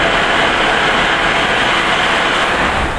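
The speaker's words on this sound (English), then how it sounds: "Right now we're releasing these blasts of steam from the boiler to help clear the boiler from scaling and debris" A steam locomotive at Greenfield Village vents blasts of steam from its boiler to clear out scale and debris, producing a loud, steady, unbroken hiss throughout.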